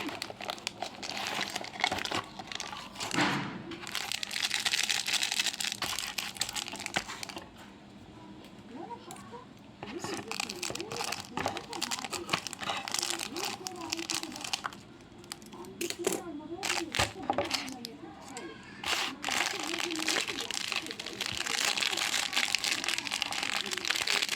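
Plastic packets of shower gel, one liquid and one powder, are torn open and emptied into a dish, giving a long run of loud, close crinkling and crumpling with brief pauses and occasional talk over it.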